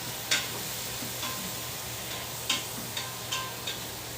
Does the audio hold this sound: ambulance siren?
no